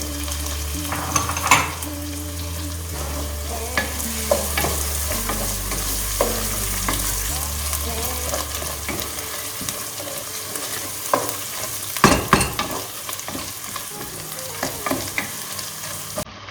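Steady loud sizzling of diced beef cubes frying in a pan, with occasional scrapes and clatters of stirring; no talking.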